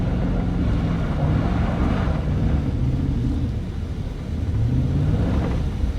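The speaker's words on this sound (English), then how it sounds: "Let this car go a little bit, give it some gas, and sliding sideways." A car engine revs while the car slides sideways on slushy, slippery snow. The rumbling rises and falls in two swells of throttle, loud and close, with no voices.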